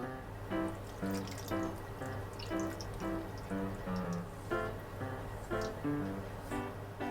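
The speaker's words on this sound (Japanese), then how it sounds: "こちらに粗熱を取ったつけだれ入れていきたいと思います。" Cooled soy-based marinade is poured over dried cucumbers and shiso leaves, giving a steady run of small splashing, dripping pulses close by with no voices.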